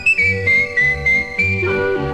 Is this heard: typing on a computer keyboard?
no